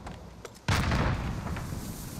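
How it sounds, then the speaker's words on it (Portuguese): A frag grenade detonates in a competitive shooter video game, a single loud, sharp blast after a brief stretch of quieter clicks and taps, followed by a long rumbling decay. "Vou mandar a frag"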